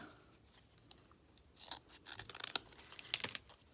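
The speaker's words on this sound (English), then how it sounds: "I'm gonna actually just cut a big triangle, super long" Scissors snip through green craft paper while a long triangle is cut for jungle leaves in a lion collage, a run of quiet close crisp cuts and rustles with no talk.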